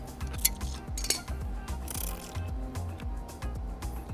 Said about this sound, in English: Unscrew the wand here.